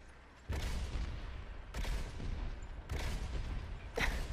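Gunfire in Overwatch lands as four heavy booming shots spaced about a second apart, each with a rumbling low tail, loud and close with no speech.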